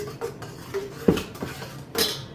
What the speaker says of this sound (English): I'm going to stir up my frothy yeast a little bit more